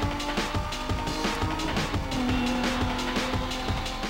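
Car launching off the line in Need for Speed Most Wanted (2005), engine revving hard under rapid clattering tire and mechanical noise, loud and close throughout.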